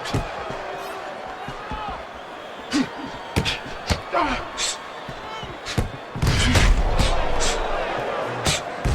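Punches landing in a televised boxing title bout, sharp thuds and smacks in quick combinations over a murmuring crowd, with commentators talking and louder crowd noise toward the end.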